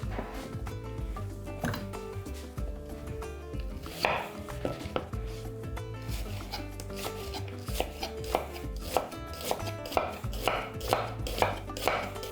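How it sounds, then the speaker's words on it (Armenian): Knife chopping two small onions into wedge-shaped slices on a board, a steady run of crisp, close cuts over a sustained musical background with no talking. "Երկու փոքր գլուխ սոխ կտրատում ենք փետրաձև։"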